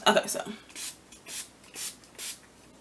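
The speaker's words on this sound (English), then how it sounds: "For setting spray, this BH Cosmetics makeup setting spray." Four short hissing sprays from a pump bottle of makeup setting spray, evenly spaced and close by, after a brief rattle.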